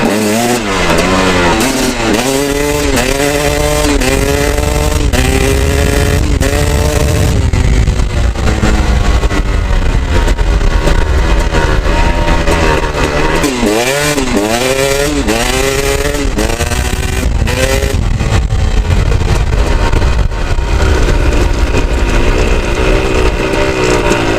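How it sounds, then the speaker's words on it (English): A KTM 250 SX two-stroke dirt bike engine, freshly rejetted with a JD Jetting kit, revs up and down repeatedly in loud, close bursts, rising and falling pitch sweeps over a steady raspy idle, with no talking. "Just give it a little bit of gas and the bike just goes"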